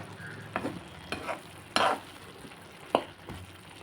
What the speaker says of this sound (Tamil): மஞ்சத்தூள் சேர்த்துட்டு நம்ம மிக்ஸ் பண்ணிக்கலாம்.